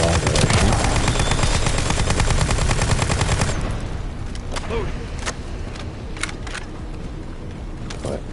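Automatic gunfire from a gun in the video game The First Descendant, a rapid steady stream of shots for about three seconds that then gives way to scattered single impacts and quieter game sounds, with a player talking.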